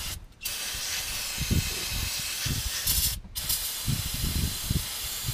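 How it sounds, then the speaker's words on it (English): Brake cleaner sprayed from an aerosol can onto the crusty, dirty top of a 2005 Chevy Avalanche fuel tank: long sustained hissing bursts broken by two short pauses, close and fairly loud, with faint clicks of the nozzle. "I'm going to take some brake clean."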